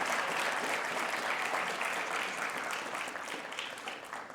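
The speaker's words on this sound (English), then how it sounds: "please give your teachers a round of applause" Graduating students applaud their teachers at a school salute ceremony, a full, even roar of clapping that gradually tapers and softens toward the end.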